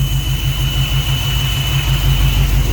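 A 1955 Chevrolet Nomad engine idles steadily with a low, rhythmic chug and a ticking, puffing exhaust beat from an exhaust leak, repeating evenly throughout, close by and fairly loud.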